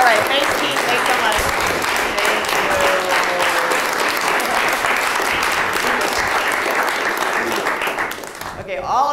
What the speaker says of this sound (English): all of that applause, if you're just joining us, is our studio audience